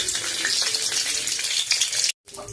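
Panch phoron, dried red chilli and bay leaf fry in hot oil in a kadai, a loud, steady crackling sizzle that cuts out briefly and then resumes.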